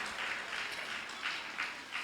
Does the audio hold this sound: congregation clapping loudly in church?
yes